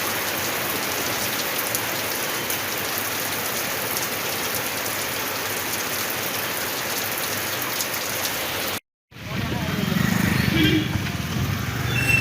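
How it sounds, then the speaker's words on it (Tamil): Widespread rain pours down steadily, a loud, close hiss of drops on surfaces; after a brief cut the scene shifts to quieter rainfall with a low rumble underneath, and no voices over it. "மாவட்டம் முழுவதும் பரவலாக மழை பெய்தது"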